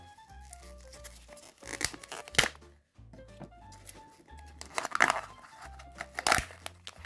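A Kinder Joy wrapper crinkling and tearing in short, sharp bursts of rustle, close by, with a light tune playing underneath.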